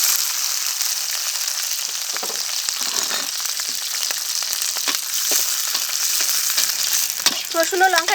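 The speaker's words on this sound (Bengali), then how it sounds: "কড়াইতে দিয়েছি সরিষার তেল এই তেলে দিয়েছি রসুন দিয়েছি চেরা কাঁচা লঙ্কা" Garlic and slit green chillies frying in mustard oil in a wok, a loud steady sizzle running throughout with occasional crackles and pops and light stirring scrapes.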